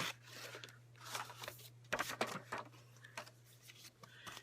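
Scissors snip through paper for a folded critter craft with a few quiet, uneven cuts and rustles, faint and close, the blades not cutting cleanly.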